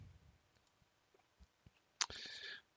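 Mouse clicks while stepping through a Microsoft Silverlight removal setup wizard on a computer: a few faint, sparse clicks, then one sharper click followed by a brief burst of system sound.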